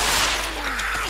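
Rapid bursts of gunfire in a cooperative Left 4 Dead 2 zombie match, set in a custom LEGO campaign, crackle continuously and loudly at close range throughout with no pause, joined at one point by a faint human vocal sound.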